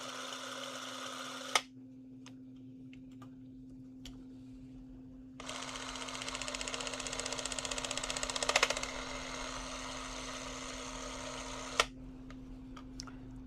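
A hand-crank film camera whose mechanism runs with an even whirring chatter. It comes in two bursts: a short one at the start and a longer, steady run in the middle. Sharp clicks stand apart at the stops, over a constant low hum.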